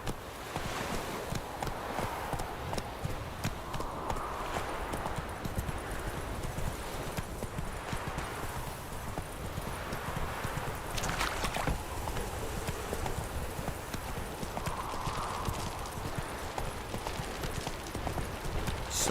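Hooves of Roach, the horse in The Witcher 3 game, pound steadily at a gallop throughout, a close, continuous thudding rhythm over soft ambient wind and occasional faint snorts.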